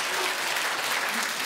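Steady, dense applause from a large seated audience at a Seosan city policy concert, a continuous broadband patter filling the space evenly without a break.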